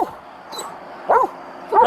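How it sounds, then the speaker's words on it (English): A police K9 unit dog gives a few short, yelping barks with whimpery edges in separate close bursts, with no talking. "it's a dog, he's gonna find you and bite you."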